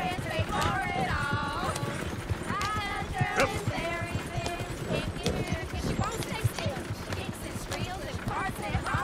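Horse hooves clip-clop rhythmically in the video game Red Dead Redemption 2, with steady moderately loud hoofbeats running throughout beneath frequent character dialogue and singing, along with occasional sharper knocks.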